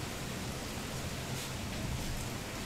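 Steady rain during a thunderstorm, muffled through a closed window, a constant broadband hiss with a low rumble beneath, even and unbroken throughout with no distinct drops or thunder cracks.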